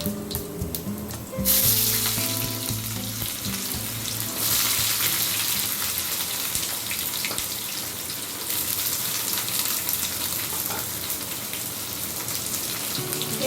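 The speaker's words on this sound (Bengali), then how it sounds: "ফোড়নগুলো ভাজা হতে হতে পেঁয়াজ কুচি দিয়ে দিচ্ছি।" Chopped onion hits hot oil already frying bay leaf and five-spice seasoning, setting off a loud, continuous sizzle after a brief quieter start, with occasional stirring.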